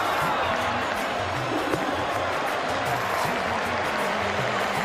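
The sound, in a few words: capacity cricket crowd at Eden Park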